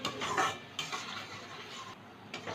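Masala for jackfruit curry being stirred in a pan after a little water is added, a few soft scraping and clinking strokes of the utensil against the pan, close and fairly quiet.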